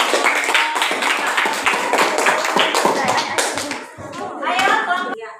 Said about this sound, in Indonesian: Iya, berikan aplaus buat